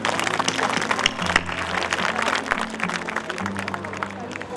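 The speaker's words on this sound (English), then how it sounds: "Can I have a huge round of applause for the entire Asian family, please?" Audience applause at a school Founder's Day ceremony gives steady, dense clapping from a sizable crowd, continuous throughout with a faint voice underneath.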